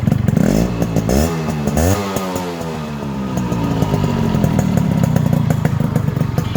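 A Yamaha RX 100 motorcycle engine runs loud and close, revving up and down with rising and falling pitch before settling into a steady, rough idle.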